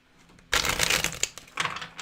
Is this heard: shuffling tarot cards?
yes